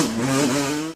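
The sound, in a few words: Suzuki LT500 Quadzilla quad engine screaming, sound effect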